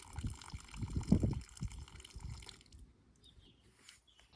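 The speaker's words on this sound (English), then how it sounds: "just turn it and you can let your dirty water drain out." Grey water runs and splashes out of a camper's disposal tap, gurgling in uneven bursts up close, then trails off to faint drips.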